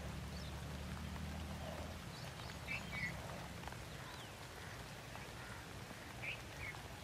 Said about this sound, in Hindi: और बारिश ये देखें कतरे गिर रहे हैं, रेन।